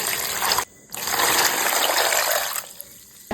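Water poured from a container into a cooking pot holding small bananas, a steady close trickle and splash running nearly the whole time with one brief pause near the start.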